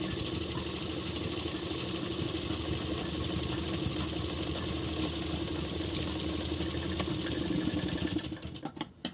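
A sewing machine runs steadily, stitching lace onto a blouse, with a continuous close mechanical whir that stops abruptly near the end.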